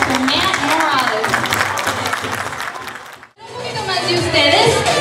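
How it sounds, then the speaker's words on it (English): A pageant crowd gives a round of applause with cheering and voices mixed in. It dips to a brief near-silence partway through, then swells loudly again. "So let's give it up a big round of applause."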